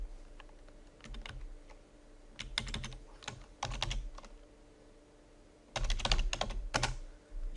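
Bursts of computer keyboard typing, quiet and close, with clusters of keystrokes separated by pauses and no talking.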